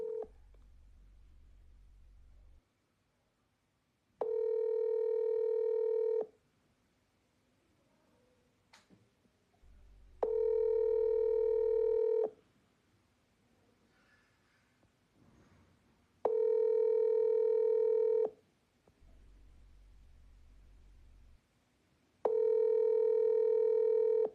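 A WhatsApp video call rings out with no answer: four identical ringback tones in a steady, evenly spaced rhythm, each separated by a lower buzzing pause, clear and fairly loud with no voices.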